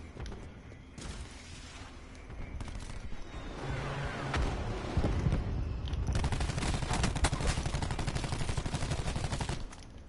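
Rapid automatic gunfire from a Call of Duty Black Ops 4 multiplayer match builds into sustained bursts that fill most of the clip, loud and close with mechanical clatter, then cuts off near the end.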